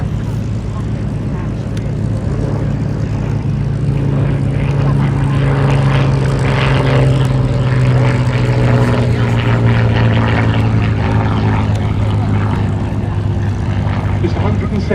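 Hawker Fury Mark I biplane fighter flying at an airshow, its propeller engine droning steadily and loudly overhead with a wavering pitch, while a commentator talks over it.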